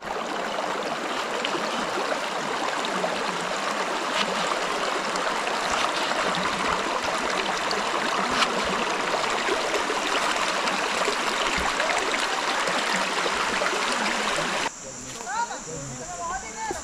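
A river in Jarabacoa rushing steadily beside an outdoor countryside cooking spot, a loud continuous broadband flow that holds for most of the stretch before dropping to a quieter, thinner trickle.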